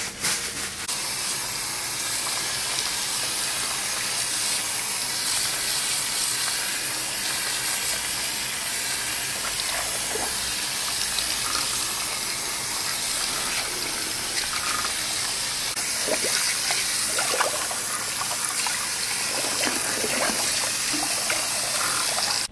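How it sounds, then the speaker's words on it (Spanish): Water running steadily at a hair salon sink as hair is rinsed after a taninoplasty treatment, a continuous close hiss and splash lasting throughout, with faint shifting trickles and no talking. "A enjuagar."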